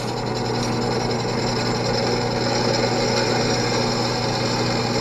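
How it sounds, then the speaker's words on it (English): A drill boring a hole during a homemade riding lawn mower trailer and dump cart build, giving a steady, unbroken whirring grind with a high whine throughout. "So I figured I'd let you guys see drilling the hole."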